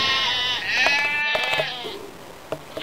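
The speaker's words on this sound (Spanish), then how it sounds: "se acercaron unas cabras junto a la pared donde Periquillo había dejado el saco" Goats bleat as a sound effect in a school radio drama, a string of wavering, close, loud bleats that overlap and fade, with no talking.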